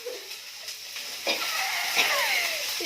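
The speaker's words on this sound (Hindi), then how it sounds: "ये तेल पड़ने की डर से, कढ़ाई से तेल उड़ के ना इसे लग जाए, इसलिए इतने दूरी से सब्जी को फेंक रही है" Vegetables tossed into hot oil in a kadhai wok set up a loud, steady sizzle, with stirring scrapes and crackles rising through the frying.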